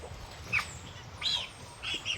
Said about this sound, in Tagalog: Ayan, may bagong pisa na naman na sisiw tayo.